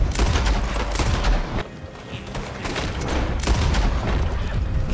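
Repeated gunfire in the video game Red Dead Online, loud dense bursts of shots and booms filling the scene, with a brief lull before the shooting picks up again.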